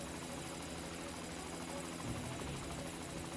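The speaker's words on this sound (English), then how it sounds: "Helicopter mad loud." A helicopter in the Dead Rising video game thrums with a steady, loud rotor chop that fills the scene continuously, with a faint voice underneath.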